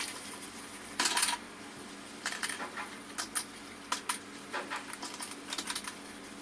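Metal spoons being scrubbed clean in a kitchen give close, scattered bursts of clinking and scraping, with short quiet gaps between and no talking.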